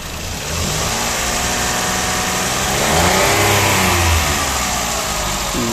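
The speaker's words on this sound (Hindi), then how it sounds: "ये है जी इंजन की अभी की आवाज़" A Toyota Vitz 1000 cc engine, 2012 model, idles steadily up close, then revs up briefly around the middle and settles back to a smooth idle, loud and with no talk over it.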